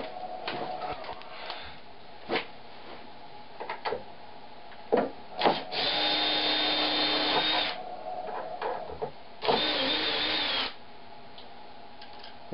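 Power driver or drill backing a screw out of a Tucker vise mounted to a wooden workbench, heard as two sustained whirring bursts between scattered clicks and knocks of tool handling, close and fairly loud.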